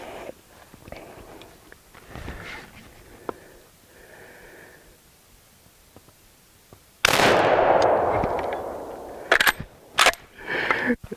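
Sharp, loud rifle reports from a Savage 99EG lever-action chambered in .300 Savage, fired outdoors; a couple of quieter pops come first, then a powerful blast with a lingering echo and further close impulses near the end.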